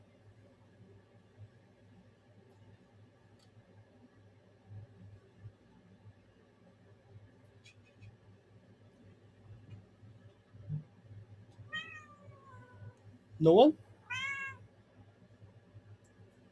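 A cat gives a few short meows and one louder, rising cry in a quiet room with a low steady hum, and a person speaks briefly.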